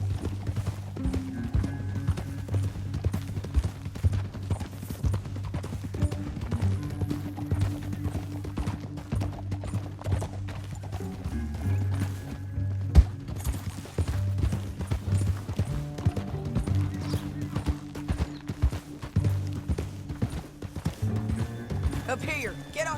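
Horse hooves gallop in Red Dead Redemption 2, a steady, loud clip-clop running throughout under game music, with voices talking over it.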